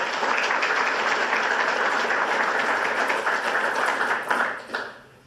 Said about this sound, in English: A round of applause for the folks who are making this happen.